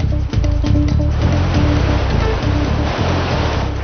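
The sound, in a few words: water splashing around paddled boat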